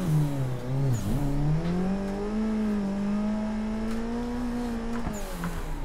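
A car engine in a racing video game, drifting uphill on the Ebisu touge track with a clutch kick and handbrake, holds a loud sustained drone that dips and rises in pitch, with tire noise and no talk.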